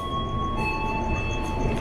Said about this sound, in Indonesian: Di sebelah sana kereta lokal diberangkatin ke arah Padalarang